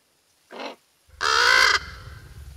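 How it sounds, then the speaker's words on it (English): A crow caws in a fantasy drama scene: one short harsh call, then a louder, longer caw over a low rumbling background that continues after it. "That fucking crow."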